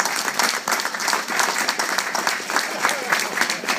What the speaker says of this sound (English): we really need to give him a round of applause